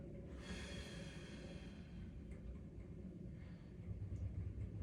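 A long, breathy exhale during a seated breathing exercise, rising in the first seconds and then fading into a quiet, low room rumble.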